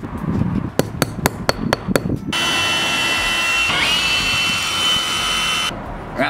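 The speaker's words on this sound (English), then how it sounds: "so we're just gonna get these drilled out, get the fixings that come in with it" Sharp taps and clicks open the sound, then a power drill whirs steadily and loudly, close by, as it bores fixing holes for an EV charger, its pitch shifting once before it stops.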